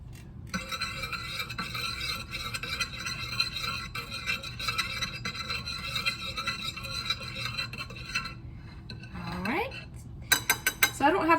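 Spoon stirring a smoked paprika and garlic powder mixture in a bowl, a continuous close scraping and clinking that ends in a few louder taps.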